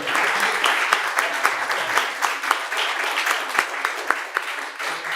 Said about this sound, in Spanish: Yo pido un aplauso para Ezequiel nuevamente de cierre.